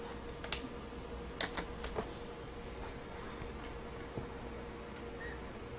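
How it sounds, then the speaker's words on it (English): Typing on a Razer Ornata Chroma hybrid membrane keyboard with low-profile keys in gaming mode, heard as a few soft, quick clusters of key clicks over a steady low background hum, fairly quiet and close, with no talking. "For this typing test, I am going to enable gaming mode to prevent accidental key presses to the Windows and menu keys"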